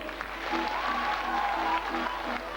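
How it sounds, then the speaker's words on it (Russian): An audience at a city princess beauty pageant claps for the contestants, a steady burst of moderate applause from a mid-distance crowd with a faint voice underneath. "Аплодисменты нашим красавицам"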